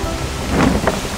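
Rain begins pattering steadily in an outdoor home kitchen while beef and mustard greens stir-fry with noodles, a brief dense hiss of drops with a faint low rumble.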